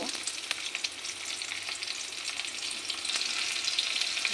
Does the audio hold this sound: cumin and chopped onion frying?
yes